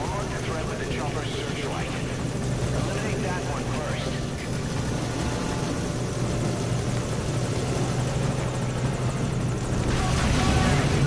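A helicopter flies through a Metal Gear Solid V: Ground Zeroes mission, its steady engine and rotor drone running loud and continuous throughout, with some talk over it.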